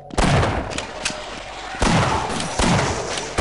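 Booming gunshots ring out in the Half-Life video game: four heavy, close reports spaced under a second apart, each with a ringing tail.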